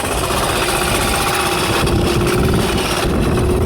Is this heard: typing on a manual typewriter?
no